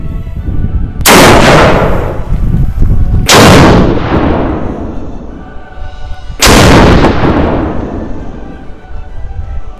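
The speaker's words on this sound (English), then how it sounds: "This is the 450 grain North Fork Flat Point Solid." A rifle chambered in a powerful pistol caliber fires 450 grain North Fork Flat Point Solid bullets: three loud, sharp shots spaced a few seconds apart, each trailing off in a long echoing rumble, with no voices.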